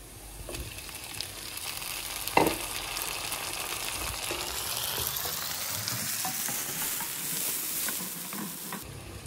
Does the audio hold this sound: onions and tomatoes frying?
yes